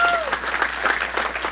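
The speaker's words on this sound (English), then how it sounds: "One more round of applause for making this happen." Steady applause from a crowd, clapping filling the whole moment at moderate loudness, with a brief tone at the start.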